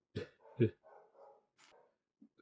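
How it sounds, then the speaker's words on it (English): A dog gives two sharp close barks, followed by softer whining yips and a few faint trailing sounds in an otherwise quiet room. "my dog is going crazy."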